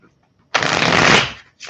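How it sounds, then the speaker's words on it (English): Tarot cards riffled in one quick burst, a dense papery flutter lasting under a second up close, with a brief start of another shuffle right after. "Let's do one more good shuffle"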